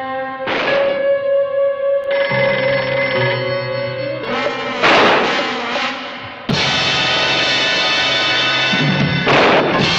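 An old-fashioned telephone rings repeatedly and goes unanswered, with loud, bright bursts of ringing separated by short pauses, alone and with no talk.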